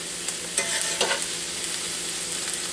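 Chopped food sizzles and browns in a hot frying pan, a steady close hiss with a few brief stirring scrapes near the start, and no voices.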